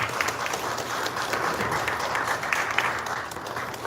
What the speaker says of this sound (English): Can we give you another round of applause?